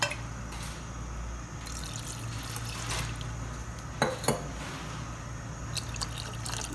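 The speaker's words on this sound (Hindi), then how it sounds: "उसमें ये सोक किए हुए आलू बुखारे डालेंगे और इसका पानी भी साथ ही डाल देना है।" Soaked plums (aloo bukhara) and their soaking water tipped into a saucepan for plum chutney, a steady liquid pour with dribbles and a few sharp clinks of pan or utensil, close by in a kitchen with a constant low hum.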